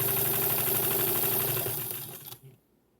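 A sewing machine runs steadily at high speed, stitching fabric binding onto a scrappy patchwork tree skirt with a loud whirring, rattling motor hum that slows and stops near the end, with no voices.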